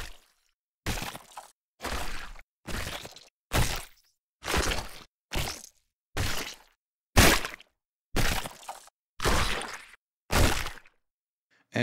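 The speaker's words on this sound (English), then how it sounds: "we start hearing gore sounds, so blood and guts and etc." Wet, crunchy gore impacts for a ragdoll in an Unreal Engine game, blood-and-guts splats and cracks played one after another as about a dozen short, loud, separate hits with silence between them.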